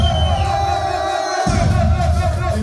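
Live audience at a café concert cheers and shouts loudly in a continuous roar of crowd noise and whoops, with a brief dip in the low rumble midway.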